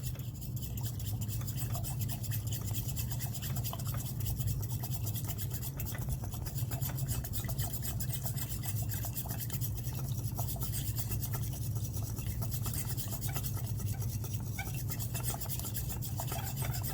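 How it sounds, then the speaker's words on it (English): A glass rod stirs a silica slurry in hexane in a chemistry lab, a continuous gritty rubbing and scraping that runs steadily with no pauses, close and fairly quiet. "Stir this with a glass rod until it's a slurry."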